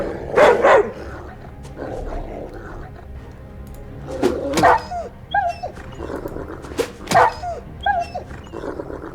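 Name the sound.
wolf barking and whimpering in video game Swordhaven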